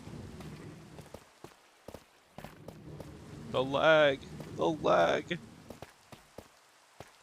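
Steady patter of rain falling in the Minecraft world, a soft continuous hiss broken by scattered sharp drop clicks, with someone speaking briefly over it mid-clip.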